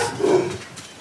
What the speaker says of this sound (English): We have very mouthy dogs.